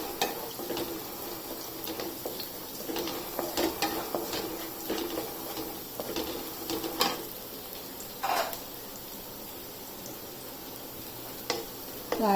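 Onions and garlic sizzle in a hot pan, a steady soft frying hiss broken by occasional scrapes and stirs of a utensil against the metal, fairly quiet and close with no talking.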